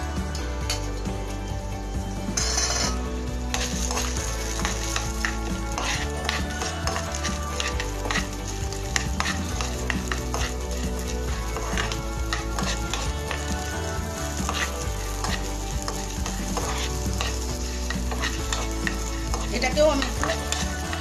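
Chana dal dry-roasts in a pan while being stirred, giving a dense run of scraping, rattling stir strokes over a low hiss, close and continuous with no voice.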